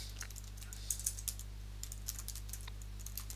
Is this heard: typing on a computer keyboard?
yes